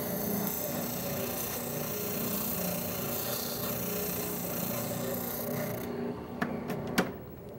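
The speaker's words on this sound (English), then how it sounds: "where an oscillating spindle sander is nice to have" An oscillating spindle sander works a wooden piece on its drum, giving a steady broadband rubbing hum that runs throughout, then thins out near the end with a few sharp knocks.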